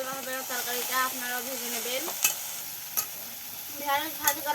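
Okra fries in oil with salt, sizzling steadily with scraping stirring and a few sharp clinks of a utensil against the pan, close by, while a voice hums or talks faintly over it.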